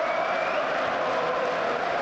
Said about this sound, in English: again to rapturous applause, jogs off the pitch